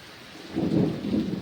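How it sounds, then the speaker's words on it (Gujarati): Heavy rain in a village with deep rolling thunder swelling up after a quieter start, a low rumble that builds and stays loud to the end. "જોરદાર વરસાદ ચાલુ થઈ ગયો અત્યારે"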